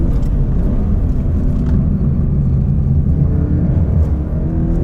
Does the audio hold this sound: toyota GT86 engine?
yes